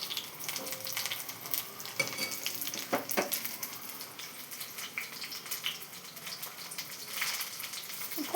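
Onion bhaji fries in hot oil, a quiet crackling sizzle with a few louder pops and bubbling bursts, fairly close and steady, with no voice.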